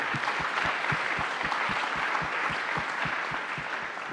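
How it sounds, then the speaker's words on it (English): A round of applause for a conference panel, steady sustained clapping from a room full of people, even and moderately distant, fading slightly toward the end. "So if you can join me in a round of applause to thank them."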